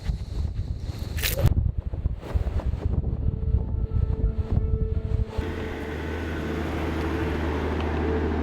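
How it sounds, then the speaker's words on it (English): Strong desert wind on the Mojave Road camping route, roaring and buffeting the microphone in loud low gusts, with a sharp burst early on before settling into a steadier rushing drone. "So windy."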